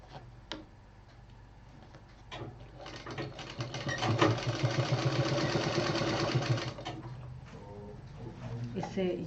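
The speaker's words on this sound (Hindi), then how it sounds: "ये जो दो जोड़ थे इनको हमें यहाँ बारीकी से बराबर करते हुए इस पे एक महीन सिलाई चलानी है" A sewing machine runs a fine, even stitch along the seams of fabric for a foldable hanging pouch, its fast steady needle chatter rising in the middle and tapering off, close and fairly loud.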